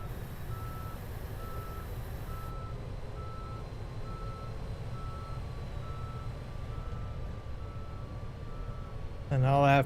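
Dump truck reversing in Farming Simulator 25, its steady repeating backup beeps running through the clip over a constant engine rumble, with a louder burst of sound near the end.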